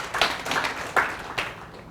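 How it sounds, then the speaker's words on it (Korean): Sparse, close claps from a small audience, four or five separate bursts at irregular intervals rather than a sustained round of applause. "박수 한번 주시죠."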